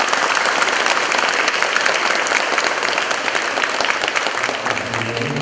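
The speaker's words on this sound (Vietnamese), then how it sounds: "chào nhau một tràng pháo tay thật lớn" A church congregation welcoming a visiting bishop and priests gives a big round of applause, loud, dense and sustained, with a voice starting to emerge near the end.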